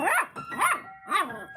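A dachshund howls along while playing the piano, giving three rising-and-falling yowls in quick succession, close and clear, with faint piano notes sustained between them.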